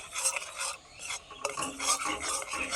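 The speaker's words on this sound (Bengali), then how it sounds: "আমি 2 মিনিটের মতো নেড়ে চেড়ে ক্যারামেল তৈরি করে নিয়েছি" Melting sugar being stirred into caramel in a pan, with close, uneven scraping and rasping strokes of a spoon against the metal and a faint sizzle underneath.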